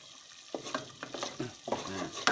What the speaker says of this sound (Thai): เราก็ต้องเอาน้ำพริกมากวนกับน้ำมันอีกรอบนึง แล้วก็ใส่ไป